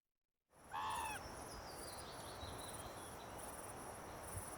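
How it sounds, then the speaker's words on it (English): Spawned bird ambience in an Unreal and Wwise game scene, a few brief descending bird calls at the start over a steady chorus of crickets and night insects, with repeated faint chirps high above. "We'll hear birds spawning"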